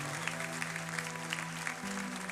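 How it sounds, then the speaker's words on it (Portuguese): Congregation applauding in a church service, a steady wash of clapping from a crowd filling the room, with a sustained low musical tone running underneath throughout. "Dá uma salva de palmas para esse povo"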